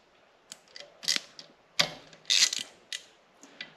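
Ratchet wrench working two T30 bolts on an Audi B9 S4 during a catch can install, giving irregular clicking and creaking bursts of turning and ratcheting, close and moderately quiet with no talk.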